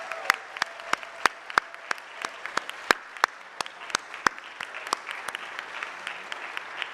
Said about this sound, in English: please give a rousing round of applause to the students in the 9th and 10th grades